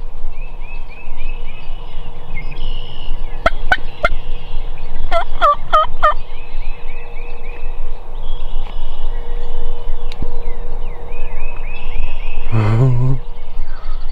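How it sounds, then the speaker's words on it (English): A wild turkey gobbler gobbles in a field during a turkey hunt. Several loud, rattling gobbles come in bursts early on, with sharp clicks among them, and a deeper call comes near the end, all over steady background noise. "So the gobbler's gotta be right behind her somewhere."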